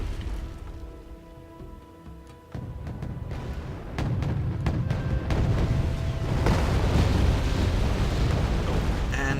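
Artillery explosions in the Wargame AirLand Battle video game, a dense rumbling barrage of booms and crackling impacts that swells in intensity partway through and continues as a heavy, sustained roar.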